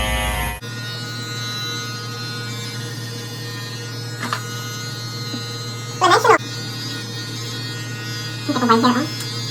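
An electric hair clipper fitted with its longest comb guard buzzes steadily and close while shaving a head, as a constant drone with a few brief louder touches. Voices speak over it now and then.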